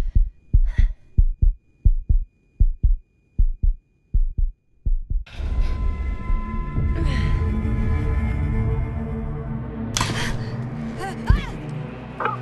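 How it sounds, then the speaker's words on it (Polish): Strong, heavy heartbeat from the video game The Invincible, about a dozen evenly spaced deep thumps at a steady rhythm, close and loud, before a dense rumbling game soundscape with swelling tones takes over. "słychać mocne bicie serca."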